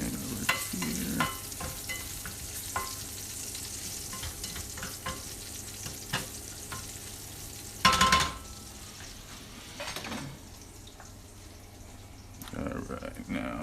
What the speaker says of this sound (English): get the garlic sauteed over here